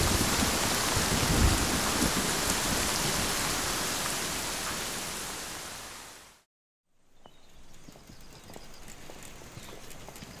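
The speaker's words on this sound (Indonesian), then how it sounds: "Kita tunggu. Mungkin hujan akan reda. Hujan badai biasanya tidak lama." A heavy rainstorm pours down as a loud, dense, steady roar for about six seconds, then cuts off abruptly to a much quieter, thinner ambience.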